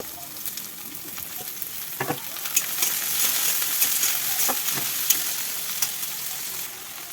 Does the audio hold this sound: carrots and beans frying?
yes